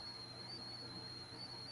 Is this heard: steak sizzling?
no